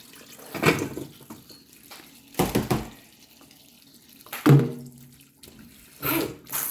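Freshly dug-up food is rinsed by hand in a bowl of water indoors, giving several separate bursts of sloshing and splashing with quiet gaps between them.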